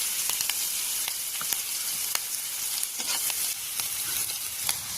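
Chopped onions fry for a chickpea dish, giving a bright, constant sizzle with frequent quick spatula scrapes and clicks against the pan, near and clear, no voices.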